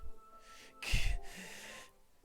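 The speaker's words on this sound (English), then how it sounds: "A sharp inhale, like someone is sucking the air through their teeth." A sharp, close inhale sucked through the teeth, followed by a softer breathy exhale, from the video game Doki Doki Literature Club Plus, quiet and brief with no talking.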